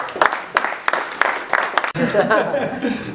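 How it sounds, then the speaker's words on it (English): A handful of sharp, separate hand claps at an award presentation, then a burst of murmuring, laughter and chatter from the gathered people as the clapping stops. "another round of applause"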